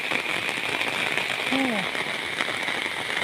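Heavy rain pours down in a dense, steady hiss during a storm in a dark forest, with a short voice-like sound briefly rising above the downpour.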